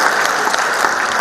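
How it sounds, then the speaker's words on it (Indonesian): Sustained applause from an audience at a national gathering, loud and close, a dense steady patter of many hands clapping without pause. "Tolong jangan tepuk tangan lagi."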